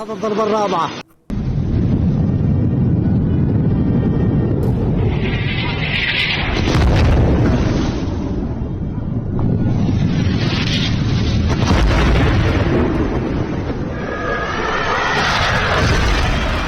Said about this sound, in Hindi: किस तरीके से जोरदार विस्फोट हुआ है, धमाका हुआ है